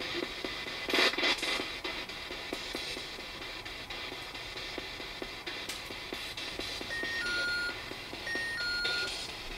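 Several short electronic beeps at differing pitches chirp near the end of a Ouija session, faint over a steady hissing background.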